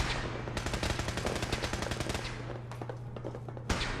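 Rapid automatic gunfire bursts rattle through a Fallout 4 firefight, a dense stream of shots for about two seconds followed by sparser single shots and a final sharp report.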